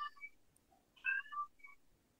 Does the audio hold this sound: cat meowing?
yes